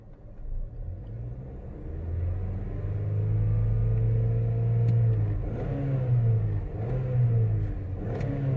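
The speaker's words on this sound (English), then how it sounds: "let me bring up the RPM and let's watch our variances" A car engine revs up during a diagnostic check, a low rumbling idle rising into a sustained higher-pitched whine and then easing back, close and steady, alone without talk.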